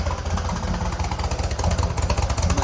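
A 1965 Chevrolet C10 pickup's engine runs steadily near at hand, a loud, throaty idle with a rough pulsing low-end rumble and no voices over it.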